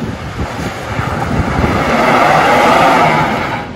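A 4x4 with all-new tires spins its wheels on compact ice on the Sand Canyon trail in the Eastern Sierra, a loud, steady roar of engine and churning tires that swells toward the end.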